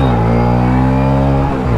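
A Hero Splendor+ motorcycle with a newly installed clutch plate accelerates hard, its engine note loud and steady with strong harmonic drone, briefly dipping near the end as it shifts.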